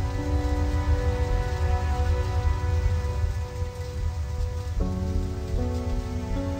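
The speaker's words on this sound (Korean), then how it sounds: "암모니아가 우박이 되어 내립니다." Ammonia hail on Jupiter, rendered as a dense, steady patter like hard rain on a surface, loud and continuous under sustained musical tones that shift pitch partway through.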